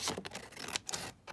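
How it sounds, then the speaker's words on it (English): Scissors snip through blue paper for an envelope in a few quick, close, soft cuts over about a second, with no voices. "I'm just going to cut this down here"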